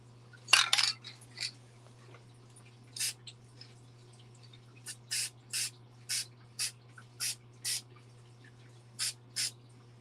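Short hisses of spray paint from a can, in repeated bursts with pauses, coat a model narrow gauge train frame during weathering, over a faint steady hum.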